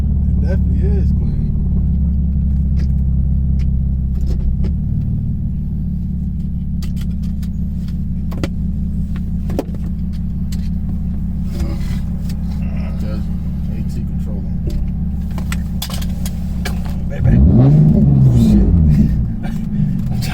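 A Nissan G35 engine idles with a steady low rumble, then revs up briefly near the end with a rising whine before settling.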